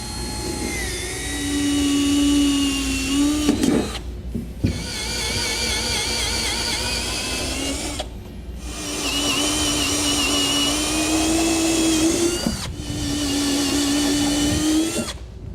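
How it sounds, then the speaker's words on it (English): Power drill with a step drill bit whining steadily through the metal bed of a 2016 Chevy pickup truck, three sustained runs separated by brief pauses, loud and close. "drill out each of our holes, and then use a step drill bit to bring it up to 9/16 of an inch"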